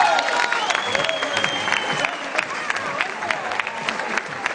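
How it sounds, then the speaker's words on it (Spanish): Audience applause at a 4Life new-products presentation, steady and dense, with crowd cheering and voices over it throughout. "Fuerte, fuerte, fuerte el aplauso para nuestro profesional de la salud"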